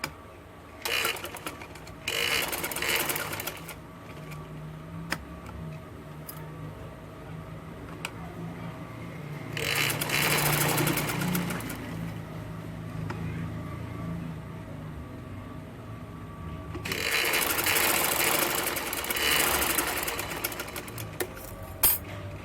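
A sewing machine stitches along the edge of a ladies' shalwar in short bursts, three main runs of rapid needle chatter separated by quiet pauses with small handling clicks, close and fairly soft.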